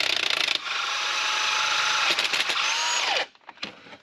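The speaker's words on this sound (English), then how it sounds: "This is just part of the cracking it's making as I'm turning the steering wheel." Loud, continuous grinding and whirring while a car steering wheel is turned, a sustained mechanical noise that cuts off abruptly near the end, followed by a few faint clicks.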